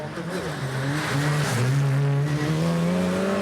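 Race cars on a snow and ice track at the Race of Champions in Pite Havsbad, Sweden, roar loudly with rising engine pitch as they accelerate, under a commentator's voice.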